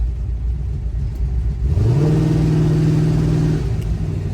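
A 1972 Chevrolet Chevelle with a 572 engine idles with a deep rumble, then revs up sharply, holding a loud, throaty roar before easing back down.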